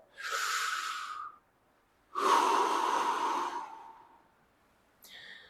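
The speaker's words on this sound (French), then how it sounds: "Et ensuite, je vais l'alterner avec une respiration ventrale." Slow, deliberate breathing exercise alternating chest and belly breathing: two long, close airy breaths, each lasting over a second, separated by a pause, then the start of a third breath at the end. No voice is heard.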